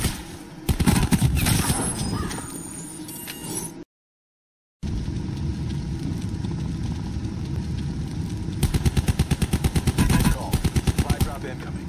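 Rapid bursts of automatic gunfire crackle loudly in a shooter game, with long, fast-rhythm volleys before and after a brief silent gap, under a steady engine-like hum.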